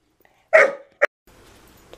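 A service dog barks at a skateboard: one loud, close bark, then a second short, sharp one, followed by faint low background noise.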